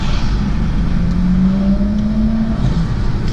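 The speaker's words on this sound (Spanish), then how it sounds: "¡Qué bonito sonido! Les repito, este coche no es ni turbo, ni supercargado, ni nada." A Porsche 911 GT3 RS with a naturally aspirated six-cylinder engine revs loudly up close. A steady, dense engine roar climbs in pitch through a rising rev, then eases back near the end, with no talking.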